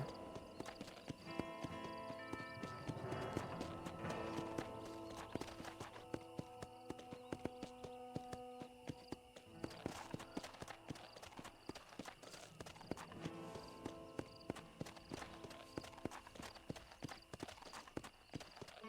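Horse hooves clip-clop at a steady walking pace in the video game Red Dead Redemption, quiet and even, with soft game ambience underneath.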